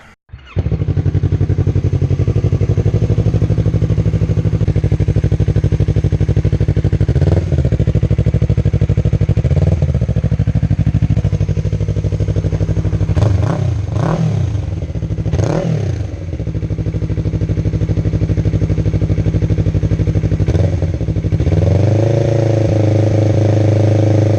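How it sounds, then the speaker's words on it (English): A Yamaha YZF-R3 motorcycle engine fires up after an oil change and settles into a loud, throbbing idle close by, with a few throttle blips partway through. "Take it outside, I'm gonna start the engine."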